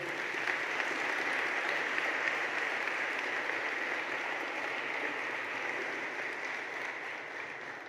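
A church congregation applauds the Lord during an evening service, a sustained, even wash of many hands clapping that fades slightly toward the end.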